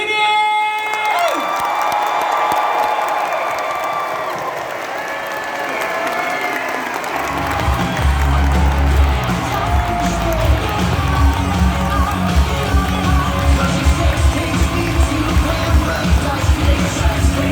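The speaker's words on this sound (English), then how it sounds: "Everybody, please give a round of applause for Jeff Zanini!" A comic con audience breaks into loud applause and cheering, with whoops rising from the crowd. A short voice comes first, then the clapping swells and carries on steadily to the end.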